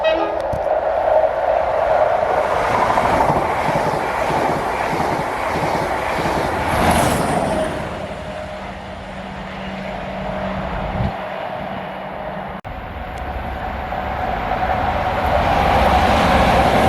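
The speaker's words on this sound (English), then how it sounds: "Fast train approaching." A ScotRail push-pull train led by its driving trailer rumbles steadily with rail and wind noise as a fast train approaches, a brief high whine rising midway and the roar swelling again toward the end.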